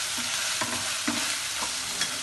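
Ground tomato cooking in a hot pan for a first homemade pasta sauce, a steady broadband sizzle with a few soft stirring scrapes around every half second, close and moderately loud, no talking.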